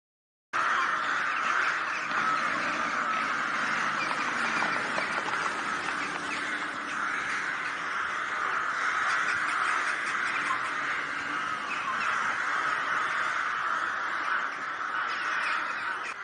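A flock of crows caws continuously, their harsh calls overlapping into a steady, loud chorus that carries on without pause.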